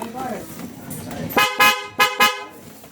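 A dual loud horn fitted to a Suzuki Burgman scooter sounds three short, loud honks in a row after someone talks briefly.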